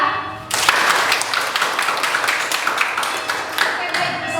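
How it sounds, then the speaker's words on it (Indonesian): A classroom audience claps for a student, a burst of applause starting abruptly and continuing as dense, steady clapping throughout. "Kita berikan tepuk tangan untuk Aprilia."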